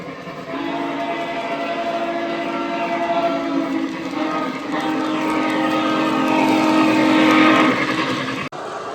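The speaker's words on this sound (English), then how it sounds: "let's test out a Legacy locomotive, make sure that's all working fine" O gauge model train with a Legacy locomotive running on a layout, a steady loud rolling hum and rumble with a sustained whistle-like tone, building slightly before ending abruptly, with no talk.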